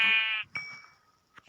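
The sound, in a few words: sheep bleating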